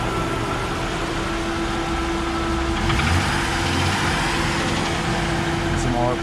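A Jeep engine runs steadily at raised RPM during a diagnostic check, giving a constant, fairly loud hum with a person talking over it.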